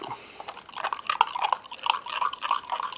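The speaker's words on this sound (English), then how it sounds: "grab this other stirring knife, and we'll go ahead and just stir this up." A knife stirring a wet clay bait mixture, producing quick squelching, clicking and sticky dabbing sounds in an irregular rhythm, close and fairly faint.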